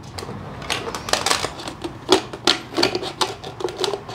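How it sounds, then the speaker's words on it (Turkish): A plastic PET bottle being cut in half across its middle, giving a rapid series of crisp clicking crunches and crackles, close and fairly loud, continuing without pause. "Şimdi bu şişeyi tam orta noktasından şöyle şu noktadan ikiye keseceğim."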